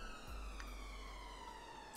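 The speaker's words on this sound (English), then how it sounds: "Oh no, it's an ambulance." An ambulance siren wails in the distance, faint and steady, its tone slowly sliding downward over a quiet background.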